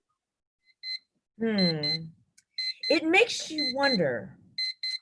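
A dove in the mystery game Murder on the Deep Blue Sea gives off short, repeated electronic beeps in a high two-tone pattern. A person speaks between and over the beeps.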